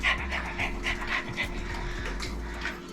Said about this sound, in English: I notice he's panting like a dog